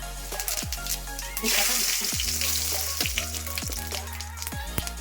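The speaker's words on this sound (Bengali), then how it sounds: "তেল গরম হয়ে গেছে আমি এখন জিরা" Cumin seeds fry in hot oil for a spiced potato dish, a bright sizzle that swells early then settles, punctuated by repeated sharp clicks and knocks of utensils against the pan.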